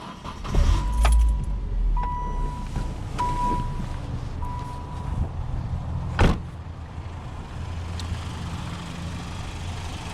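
A 1998 Saturn SL1 car, said to burn a lot of oil, starts up on a January day and settles into a steady idle, with key jangling and door or window clunks early on and a sharp thump midway.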